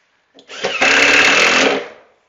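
A power drill drives a screw into wood during a full kitchen cabinet installation, giving one loud, steady whirring burst of about a second and a half that rises and then trails off, with no voices.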